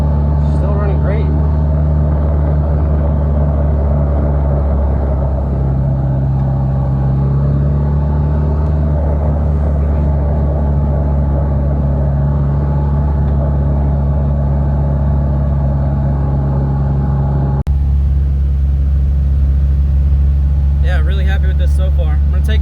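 A race car's engine drones steadily on a track in Gran Turismo 6, loud and constant over laps with a low sustained tone, its pitch shifting slightly partway through.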